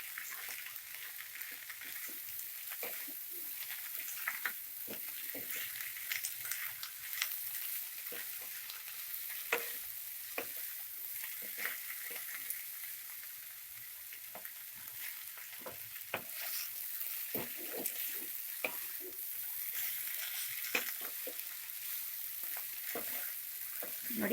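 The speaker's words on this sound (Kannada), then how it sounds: "ನೋಡಿ, ಒಂದು 30 ಸೆಕೆಂಡು ಫ್ರೈ ಮಾಡ್ಕೊಳ್ಳಿ ಹಸಿ ಕಾಯಿ ಹಾಕಿದ್ಮೇಲೆ" Beans fry with fresh coriander and grated coconut over a medium flame, a soft continuous sizzle with frequent stirring clicks and scrapes, close and even throughout, with no speech.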